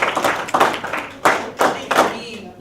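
An audience at a 2018 IPM convention gives a speaker a brief round of applause, a few bursts of clapping over about two seconds, close and moderately loud, mixed with some voices.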